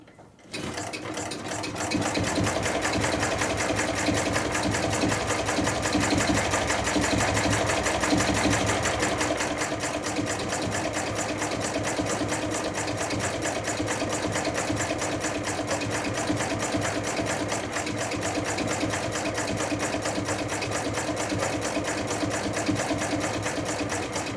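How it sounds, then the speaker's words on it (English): A Chinese mini diesel engine running after being hand cranked, with a rapid, even mechanical chatter starting after a brief quiet moment and holding steady and close for the rest of the clip. "Yes, it was possible to hand crank the engine."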